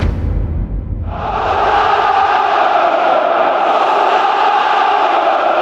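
Dense crowd of football supporters at the Stade Vélodrome in Marseille during a heatwave, a loud continuous roar of many voices that swells after the first second and holds steady, echoing around the stadium.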